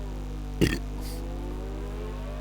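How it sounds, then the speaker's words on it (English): A single short, loud burp, followed by a softer trailing gurgle, cuts over a constant low electronic hum. "Rating that burp."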